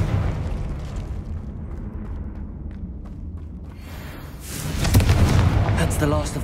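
A Confringo blasting spell explodes in Hogwarts Legacy, a loud booming burst that swells near the end over rumbling game ambience. A voice calls out spell names during the blast.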